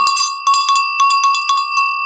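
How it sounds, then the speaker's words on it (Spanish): A small hand bell rings in quick repeated shakes, bright metallic chimes struck about a dozen times in a lively, slightly uneven rhythm, close and clear with no other sounds. "La campanilla te descubrió a vos."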